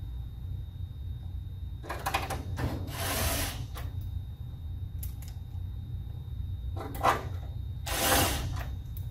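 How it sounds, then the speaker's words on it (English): A power drill drives screws into a fan coil unit in a few short whirring bursts, each about a second, with a pair around two seconds in and another near the end, over a low steady background hum. "When you drive these screws in, be careful you don't hit the tubes."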